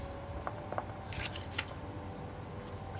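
Paper card is cut into a strip for a butterfly card, with a few faint, quiet scissor snips and light rustling close by.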